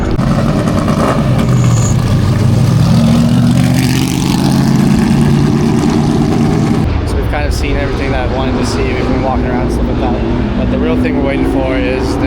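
A classic muscle car converted into a race car, C3 Corvette style, drives past at a Laguna Seca hillclimb, its loud engine roar swelling and then fading, with steady background noise and talk nearby.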